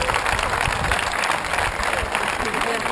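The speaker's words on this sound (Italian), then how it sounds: "Carlo Marchi era da tempo che non vedevamo applausi così, ci hai fatto commuovere tutti." Loud, dense applause and crowd noise for jockey Antonello Fadda's winning comeback at the horse races, a continuous close wash with voices mixed in.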